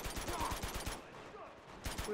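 Machine gun fire in Uncharted 2: a rapid, evenly spaced burst of about a dozen shots for roughly a second, then a brief lull of game ambience before another shot.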